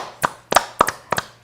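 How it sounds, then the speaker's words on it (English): Hands clapping in a quick, slightly uneven series of about six sharp, close claps, some falling in pairs, with no voices over them. "clap your hands"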